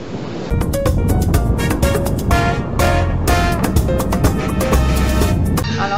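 Surf rolls onto a wild, empty beach in Colombia with mountains behind, a loud continuous roar of breaking waves heavily buffeted by wind gusts on the microphone.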